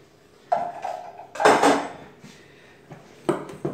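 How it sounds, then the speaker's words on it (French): Two liquids are poured and stirred together in a bowl for cracker dough, with a few clinks and scrapes of utensil against the bowl separated by quiet pauses. "Alors, on mélange les deux liquides là-dedans."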